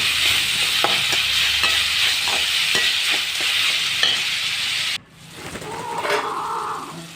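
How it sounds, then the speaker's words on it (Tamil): Vegetables sauté in a pan with salt and turmeric for a bottle gourd kuzhambu, giving a steady close sizzle punctuated by rhythmic spatula taps; midway the frying drops sharply to a quieter, softer hiss. "கொஞ்சம் உப்பு கொஞ்சம் மஞ்சள் பொடி சேர்த்து நல்லா வதக்கிக்கோங்க நல்லா வதங்கட்டும்"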